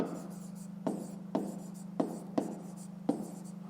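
Pen writing on paper while working a grade 5 math exercise, six short scratchy strokes at an uneven pace close by, over a steady low electrical hum.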